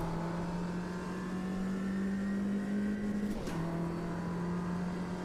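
A race car engine in the sim game Automobilista 2 holds a steady, smooth drone at close range. Its pitch climbs slowly, then drops briefly with a quick gear change before it settles back into an even hum.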